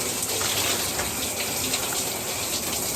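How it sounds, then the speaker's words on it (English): Water runs steadily and loudly from a shower or tap, rinsing shampoo out of hair in a continuous, even gush with no talking. "So now I'm just going to rinse it off"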